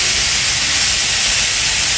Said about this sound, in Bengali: এই যে আমি অলরেডি বিরিয়ানির জন্য দিয়ে দিচ্ছি মাংস, একটু সিদ্ধ করতেছি, ভালো করতেছি।